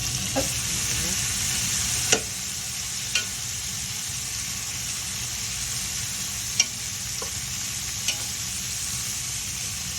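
Food frying in a pan, with a steady close sizzle and occasional sharp clicks and scrapes as pieces are turned, no one talking.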